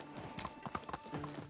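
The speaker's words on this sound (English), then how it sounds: "And then I guess we call our horse back to us." Horse hooves clip-clop in the medieval village-life game Medieval Dynasty, a quick, fairly steady run of light, close hoofbeats over soft ambient game sound.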